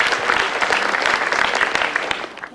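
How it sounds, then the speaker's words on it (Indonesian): Sustained audience applause at an Indonesian stand-up comedy show, a dense, steady wash of many hands clapping close and loud for the whole stretch, with no talk over it. "Boleh minta tepuk tangannya dulu buat kalian semua."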